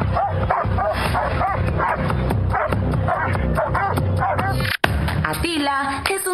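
Police dogs of a district canine brigade bark and yip repeatedly in a loud, close, busy scene, with people talking underneath throughout.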